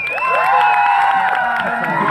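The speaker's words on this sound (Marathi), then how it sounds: "टाळ्या होत होते जोरदार" A packed crowd at a kabaddi match in Ratnagiri roars and cheers loudly and continuously, with shrill whoops and shouts rising above the dense, sustained noise.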